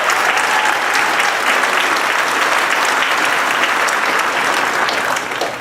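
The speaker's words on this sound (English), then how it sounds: "let's give them a round of applause" A graduation crowd for WSHS gives a long, loud round of applause to school board members, a steady wash of many hands clapping that eases off slightly at the end.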